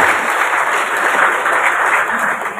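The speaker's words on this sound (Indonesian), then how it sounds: "Monggo silakan tepuk tangan yang sangat meriah untuk Pak Estu." Lively audience applause for a Bank Indonesia branch head at a school event in Cirebon, a thick, continuous clapping from a large crowd, loud and sustained without pause.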